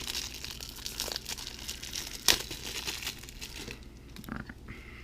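Plastic packaging of a Magic: The Gathering Commander 2015 deck is crinkled and torn open close up, with a sharp rip partway through followed by quieter rustling.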